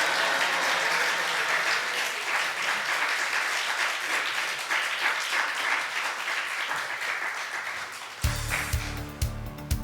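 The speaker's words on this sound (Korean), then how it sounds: "우리 목사님 나오실 때 우리 박수 치며 할렐루야를 목사님 환영하겠습니다" A church congregation claps steadily as the pastor is welcomed to the pulpit, with dense, sustained applause filling the room. Near the end the applause gives way to music.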